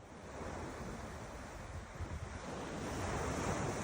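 Sea waves wash steadily against the shore near a seaside spot in Penang, a continuous broad surf roar with wind buffeting the microphone, no voices.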